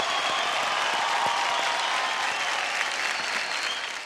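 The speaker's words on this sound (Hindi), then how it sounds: "एक बार जोरदार तालियां हो जाए" Sustained loud applause from a TV singing-competition audience, a dense steady wash of clapping that holds for several seconds and fades slightly at the end.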